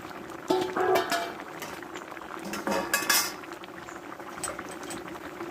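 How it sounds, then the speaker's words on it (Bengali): A metal lid is lifted off a pot of vegetarian long beans and potatoes, with a few sharp metallic clanks and clinks against the rim over soft bubbling from the pot, close by and without speech. "দেখো ঢাকনাটা আমি তুলে নিব"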